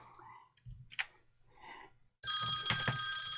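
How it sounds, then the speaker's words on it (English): A telephone bell rings loudly and steadily with a bright metallic trill, starting abruptly after a few faint clicks and soft murmurs, close and continuous to the end. "Phone's ringing."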